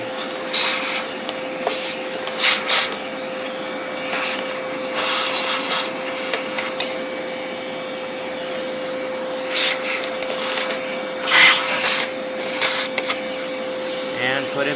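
A Hoover Convertible upright vacuum cleaner runs with a steady, constant motor whine, broken by repeated bursts of scraping and brushing noise.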